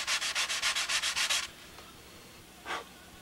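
Rapid back-and-forth sanding strokes on the edges of a model aircraft wing, about nine quick rhythmic rubs close up, then a pause and one last short scrape.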